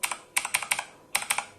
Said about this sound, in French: c'est un clavier résolument tourné pour les gamers, tout simplement, puisque c'est un clavier mécanique